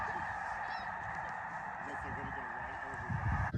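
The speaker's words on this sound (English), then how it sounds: "So this morning we have a lot of geese out here talking" Geese honking on a pond at Freezout Lake during spring migration in morning light, a constant chorus of overlapping honks from a large flock, moderately distant, with a brief low rustle at the end.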